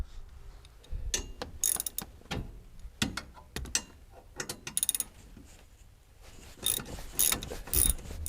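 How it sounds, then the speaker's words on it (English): Scopema swivel seat in a RAM ProMaster van being slid back on its mechanism, giving a series of sharp metallic clicks and ratcheting clunks in irregular bursts, close and fairly loud, with no talking. "Next, you slide the seat back"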